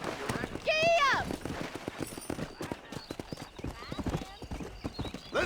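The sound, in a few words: horse galloping in video game Red Dead Redemption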